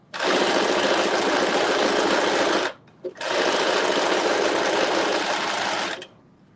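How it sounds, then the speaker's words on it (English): Sewing machine stitching fabric with a steady, fast loud whir in two long runs separated by a short pause, close and alone. "So I'm just making sure my raw edges are lined up and just sewing."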